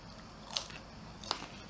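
Crispy cheese-filled triangles of filo pastry snapping apart, two sharp brittle cracks about three quarters of a second apart over a faint background hush, close and fairly quiet.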